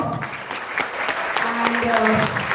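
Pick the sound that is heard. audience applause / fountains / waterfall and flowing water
audience applause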